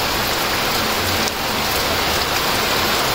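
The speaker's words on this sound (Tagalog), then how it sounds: "Ang lakas ng ulan, biglang umulan." Heavy tropical rain pours down steadily in the rural Philippines, a dense, loud hiss of drops drumming on surfaces with no pauses or voices.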